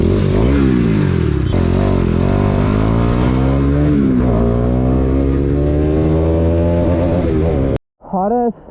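Bajaj Pulsar NS200 motorcycle fitted with an aftermarket exhaust, revving hard and close with rising and falling engine pitch, a brief cut near the end before another short rev.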